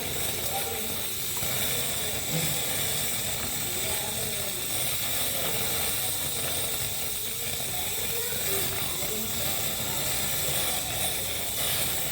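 Keema seekh kebabs fry on a tawa over a gas cylinder flame, giving a steady, continuous sizzling hiss at even loudness throughout.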